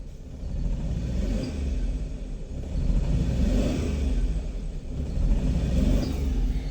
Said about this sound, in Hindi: गाड़ी हमारी स्लो रेस से बिल्कुल ही झटके मार मार कर उठ रही है।